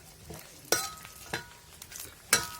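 Grated coconut dry-roasting in a hot pan for bitter gourd bhaji, with three sharp spatula scrapes and clinks against the metal over a faint, quiet background.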